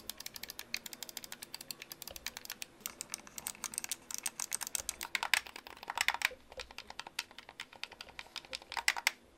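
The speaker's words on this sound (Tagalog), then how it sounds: "Pagdating naman sa D-pad and buttons, may pagka-tactile and clicky siya." Rapid, clicky presses on a mobile game controller's D-pad and buttons close up, a dense irregular patter of small plastic clicks with brief bursts of faster tapping.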